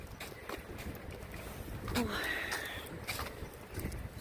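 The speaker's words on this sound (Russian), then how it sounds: "Вот я сейчас иду, мне прямо в ухо дует." Cold wind blows outdoors, buffeting the microphone in a steady low rush that swells in the middle, with faint background sounds and footsteps of someone walking.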